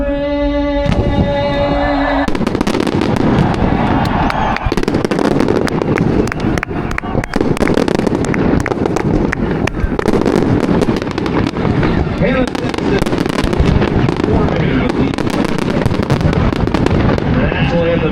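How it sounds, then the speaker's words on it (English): Fireworks burst continuously around Lucas Oil Indianapolis Raceway Park after the national anthem, a dense loud crackling and booming barrage that runs steadily throughout, with a sustained tone fading out near the start. "The national anthem as the fireworks continue to erupt around Lucas Oil Indianapolis Raceway Park"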